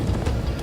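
Horse hooves in the Minecraft: Story Mode video game clip-clop in a quick, dense patter over a noisy, loud mix, with no clear voices.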